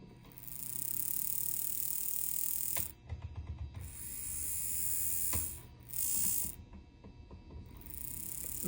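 A small electric motor from an Akane President class P7 4-6-2 model steam locomotive runs at the lowest power pack setting, giving a steady close mechanical whir with a few brief pauses and restarts.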